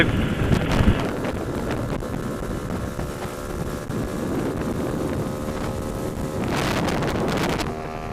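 A GT300LC engine on its first test run, running in at steady moderate speed, with a continuous mechanical drone mixed with heavy wind buffeting across the microphone and a louder surge near the end.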